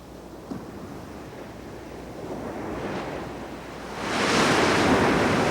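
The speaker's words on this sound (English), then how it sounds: "The waves that crash here are some of the strongest dashing against the United States coastline." Strong ocean waves break on a rocky Washington coastline, a broad windy wash that builds to a loud, roaring surge near the end.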